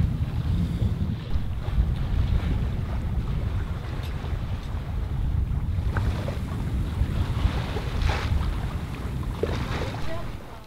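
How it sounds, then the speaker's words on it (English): Wind gusting across a sailboat under mizzen and headsail, leftover breeze from a passing squall, a steady loud roar with water wash continuing throughout. "that was just a bit of wind left over from that squall that's disappeared"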